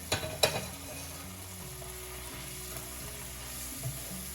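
Mushroom and butter rice mixture stirred in a pan, a couple of sharp utensil clinks at first, then a faint steady sizzle and quiet scraping.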